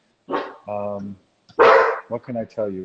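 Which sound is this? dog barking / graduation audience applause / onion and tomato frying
dog barking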